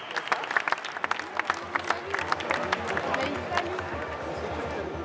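Audience applause at a EuroSkills vocational skills competition, dense steady clapping from a crowd with chatter and movement mixed in, sustained and moderately distant throughout.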